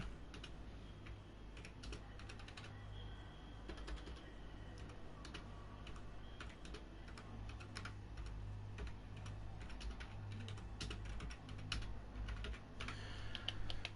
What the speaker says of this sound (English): And I will type that into the chat.